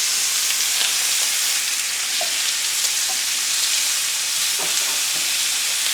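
Chicken searing in a hot pan gives a steady, loud hiss of sizzling oil with faint crackles and small pops throughout, no voices.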